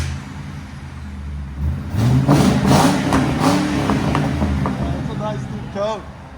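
A 2008 Ford Crown Victoria Police Interceptor with a 4.6L V8 and CARVEN TR-Series mufflers rumbles at idle, then swells into a deep rev that holds and eases back, with voices talking over parts of it.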